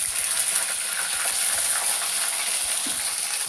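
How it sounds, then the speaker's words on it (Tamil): Ginger garlic paste hits hot oil with cinnamon and cloves in a clay pot, giving a dense, close sizzle with soft stirring scrapes throughout. "நம்ம இஞ்சி பூண்டு பேஸ்ட் நம்ம இதில் சேர்த்துக்கலாம்."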